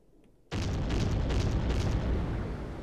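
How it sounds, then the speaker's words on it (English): Fireworks burst in the video game Corpse Party: after a quiet half second, a sudden loud boom erupts into a sustained crackling roar with repeated pulsing bursts that slowly fade. "Fireworks."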